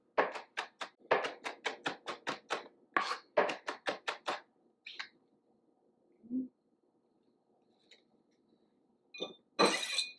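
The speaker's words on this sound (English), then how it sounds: "take your onions rather. Switch, this is the chopping motion" Onions chopped with a knife on a cutting board for an omelette: a fast, steady run of crisp close knocks, then a pause, a few scattered taps and one last louder clatter.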